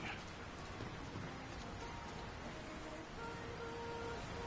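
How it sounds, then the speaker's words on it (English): Steady rain in the video game The Lord of the Rings: War in the North falls in a dense, even hiss with no breaks, soft and continuous throughout. "Who could live in a town where it's always raining?"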